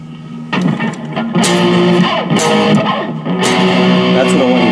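A distorted electric guitar plays metal-style chords and notes through a digital modelling amp such as a VOX VT20X, Marshall Code 25, Fender Mustang 1 or Peavey Vyper VIP1, loud and close, in short bursts with sustained ringing.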